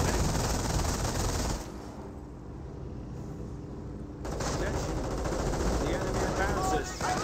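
Machine gun fire in Company of Heroes, steady rattling bursts of automatic fire that dip quieter for a couple of seconds before resuming, with a dense battlefield din underneath and no talking.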